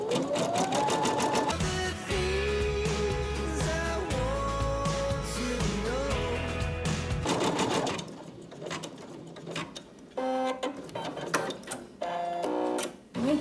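Skitch PP1 embroidery machine stitching a design, a loud close mechanical chatter of rapid needle strokes with shifting whirring motor tones, running continuously and then breaking into shorter bursts near the end.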